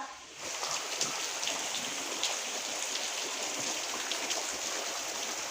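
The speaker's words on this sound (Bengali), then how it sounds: "মারাত্মক বৃষ্টি হচ্ছে আর মনে হচ্ছে সারাদিন এরকমভাবেই বৃষ্টি হয়ে যাবে" Heavy rain falls without pause, a constant wash of drops and running water at moderate volume, with no talking.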